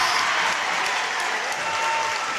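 A crowd claps steadily at a high school boys' basketball semifinal, producing dense, loud, continuous applause with no pauses throughout.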